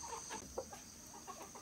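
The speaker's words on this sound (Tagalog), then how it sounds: "Manok" Chickens clucking in short, scattered bursts against a steady high-pitched background hum, moderately close.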